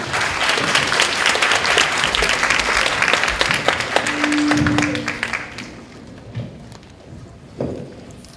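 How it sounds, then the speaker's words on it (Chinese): An auditorium audience at a university lecture series welcomes the lecturers with loud, dense applause that holds for about five seconds, then thins into a few scattered claps and shuffling. "接下来就让我们用热情的掌声欢迎陈文茜陈老师以及陈文"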